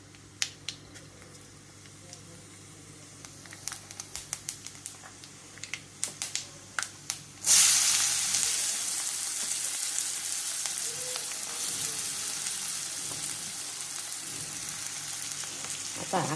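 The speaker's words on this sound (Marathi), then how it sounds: "आता तेल तापले का मोहरे वाजायला आला चुटचुट." Mustard seeds pop in hot oil with scattered sharp crackles and ticks for several seconds, then a sudden loud, hissing sizzle bursts in and settles into a steady frying rush.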